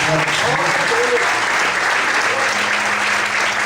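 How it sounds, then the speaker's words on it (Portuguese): Steady applause from a church congregation fills the whole stretch, loud and continuous, with faint voices and a low musical tone underneath. "Você pode desocupar sua mão e aplaudir o Senhor."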